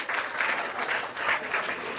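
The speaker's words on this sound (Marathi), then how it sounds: "कॉन्ग्रॅच्युलेशन, जोरदार टाळ्या" Loud applause from an audience at a women's empowerment show, a steady wash of clapping that swells and dips over two seconds with no voices on top.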